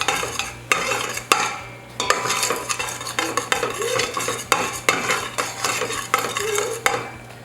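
A utensil scraping and stirring caramelizing sugar in an Instant Pot, with steady close strokes, sharp taps against the metal insert, and a low hum beneath.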